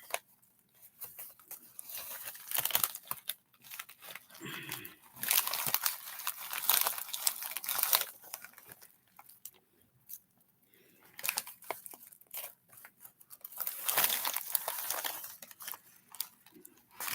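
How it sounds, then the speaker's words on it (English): Paper envelopes being handled as items are dropped into them, soft crinkling and rustling bursts coming and going over many seconds, close and fairly quiet, with no talking. "I'm just going to plop them in the envelope"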